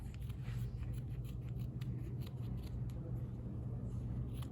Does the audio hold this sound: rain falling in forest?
no